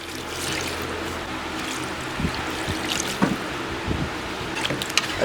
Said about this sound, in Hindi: अभी हमने ये करना है कि इसमें 1 लीटर पानी डालेंगे।